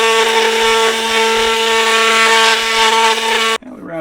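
A cordless brushless 21V oscillating multitool sands wood with a 60 grit pad, producing a loud, close, steady high-pitched buzz that cuts off abruptly near the end.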